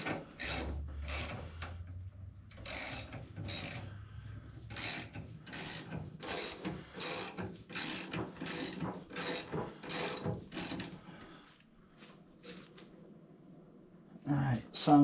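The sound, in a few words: rear wheel of a 1976 Harley FLH spinning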